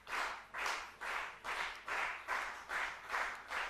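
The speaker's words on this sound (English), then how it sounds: "Now people are going clapping to make it more intensive" Spectators clap in steady rhythmic bursts, about two per second, during a 10m air pistol SH1 para-shooting final, a moderately loud, even crowd applause with no talking.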